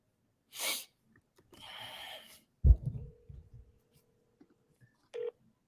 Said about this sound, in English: All right, let's call him Elijah.